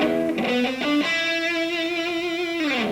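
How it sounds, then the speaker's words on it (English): An electric guitar plays through a Roland Cube amp on its heavy metal setting, with thick distortion and long sustain on a few bent, held notes and a slide down at the end. "I've got the setting set on a heavy metal setting. Gives a lot of sustain and distortion"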